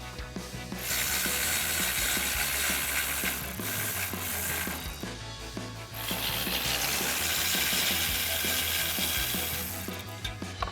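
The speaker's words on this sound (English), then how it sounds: "Use a 14mm swivel socket and reach in there." A ratchet with a 14mm swivel socket turns out bolts on a 2024-2026 Toyota Tacoma during a bull bar install, clicking in rapid close bursts, pausing briefly around the fourth and sixth seconds before resuming, with no voices.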